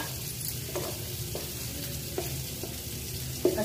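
Ginger added to hot oil with cumin, chili and asafoetida sizzles steadily while preparing Varanasi-style aloo chop, with a few light stirring clinks scattered through the continuous frying hiss.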